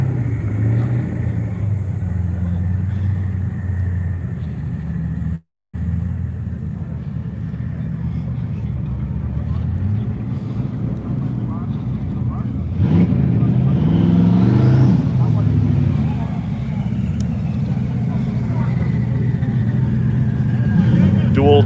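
A turbocharged Pontiac Trans Am engine rumbles loudly at a Las Vegas car-show gathering, with a sharper surge of revving about two-thirds of the way through and voices talking over the steady drone.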